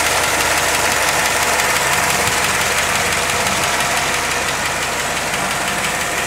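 A 1957 Ford Thunderbird V8 idles close up with the hood open, a loud steady rumbling drone with a slight knocking pulse, alone without talk.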